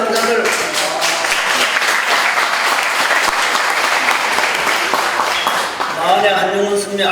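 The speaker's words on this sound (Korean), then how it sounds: "그게 뭐 박수 칠 일인데" Loud, sustained applause from a lecture audience at a Buddhist monk's youth talk, continuous clapping filling the room, with a voice returning near the end.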